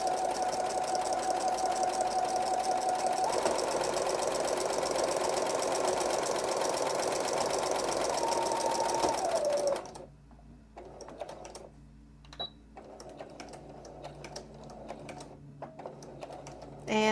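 A sewing machine runs a steady, rapid stitch joining layers of a homespun fabric rag quilt for about ten seconds, then stops, leaving quieter clicks and handling noises.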